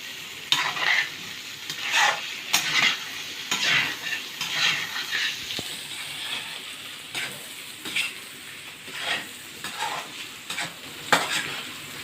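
Chicken frying in a pan over steady moderate heat, with a continuous sizzle broken by repeated scraping stirs of a utensil against the pan, close and clear, no talking.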